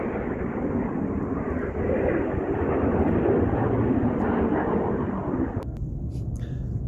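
Aircraft overhead: a steady, broad roaring rumble sustained throughout, fairly loud and even, with a faint tonal whine on top and a few small clicks near the end.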